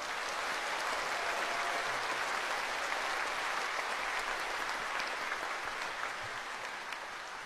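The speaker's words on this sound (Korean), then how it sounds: "큰 박수를 부탁드리겠습니다." Large audience applause at the 80th Liberation Day ceremony at Sejong Center in Seoul, a sustained, even roar of many hands clapping in a big hall, steady for several seconds without talk.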